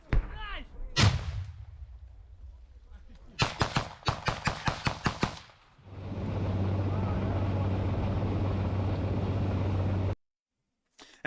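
War footage of artillery fire in Ukraine: loud sharp blasts and a rapid string of shots, then a long sustained roaring rumble before an abrupt cut, with speech heard early on.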